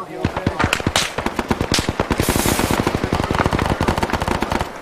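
Rapid automatic gunfire fills a battlefield in the military game Arma 3, in dense, loud bursts of shots that keep coming almost without pause for about five seconds.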